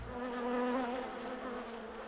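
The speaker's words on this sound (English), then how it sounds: "You see all the bees flying everywhere, all around us?" Over a million honeybees, just released from their hives in Utah, buzz all around at close range in a steady, loud drone with overlapping wingbeat hums.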